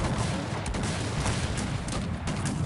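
Howitzer and cannon fire from a Cossacks 3 siege of Belgrade in the Austrian campaign, heard as a thick, unbroken barrage of booming, crackling artillery shots, loud and sustained from start to finish.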